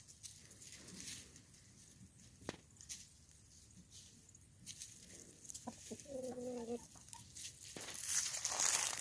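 Chickens cluck softly at a distance under faint background noise, with a protective rooster among the flock; a brief harmonic call near the middle stands out, and speech is faintly present.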